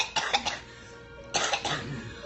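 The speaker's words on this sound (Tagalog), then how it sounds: "Sobrang inuubo ako, di ba? Kada konti." A person nearby coughs in two short fits, each a cluster of several harsh, throaty bursts separated by a brief pause, with no talking in between.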